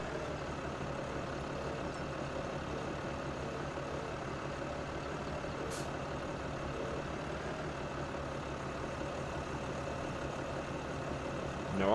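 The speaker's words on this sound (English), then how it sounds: "Then we're going to get this tractor and trailer out of the way." A tractor engine in the farming video game Farming Simulator drones steadily at a constant idle-like pitch for twelve seconds, heard alone with no talk and no change in speed.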